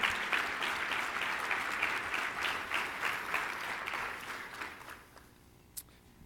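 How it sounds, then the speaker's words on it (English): Audience applause for Ryan at a closing session, steady dense clapping from a crowd that carries for about five seconds before thinning out and stopping, with a single late clap near the end. "let's give Ryan a round of applause for everything he's done for CEHO"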